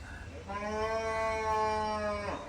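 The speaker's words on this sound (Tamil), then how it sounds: "மாடு கூட கற்றுது பார்த்தியா" A cow lets out a single long, clear moo, fairly close, rising and holding before trailing off, with quiet outdoor background and no talk.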